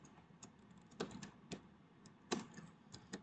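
Keys clacking on a computer keyboard while code is typed, quiet and close, in uneven bursts of taps with short pauses and a few sharper strikes.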